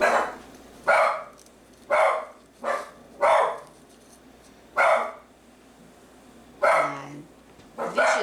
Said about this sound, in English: attack dogs have spotted a squirrel.